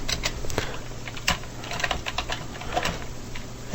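Rapid keystrokes clatter on a computer keyboard, a dense run of close, light clicks with uneven rhythm and no talk.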